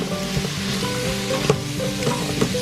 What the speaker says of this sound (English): let that get sauteed in there too as well